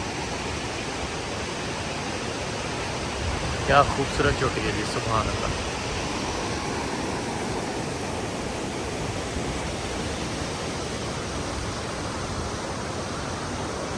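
Fast glacier stream water rushes down toward the Kunhar river, a steady, dense roar that runs unbroken throughout, with someone speaking briefly over it.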